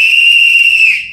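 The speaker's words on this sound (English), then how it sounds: "We will blow our whistles on the DEQ." Protesters at a rally against the Mountain Valley Pipeline blow whistles in one loud, shrill, steady blast lasting about a second, close by, before it cuts off.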